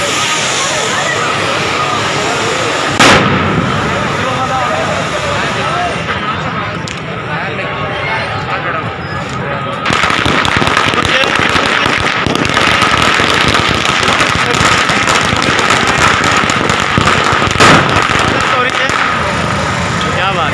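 Fireworks and firecrackers crackle and pop steadily at a Holika Dahan bonfire celebration, with occasional sharp bangs in a dense, noisy outdoor crowd, and people talking throughout.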